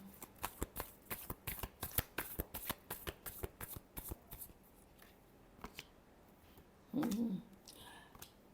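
Tarot cards being shuffled by hand, a quick run of crisp riffling snaps and flutters, close and clear, slowing to a few scattered flicks with a brief soft thump near the end.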